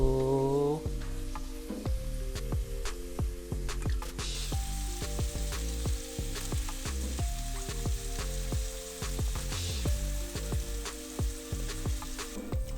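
Scallops fry in butter in a pan with a steady close sizzle, broken by repeated sharp clinks and taps of a utensil against the pan as pieces are moved and lifted, with no voices.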